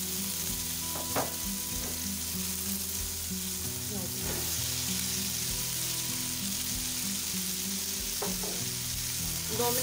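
Potatoes and peas fry in a pan with a steady, close sizzle throughout, broken by a few knocks and scrapes of stirring and a faint low hum underneath.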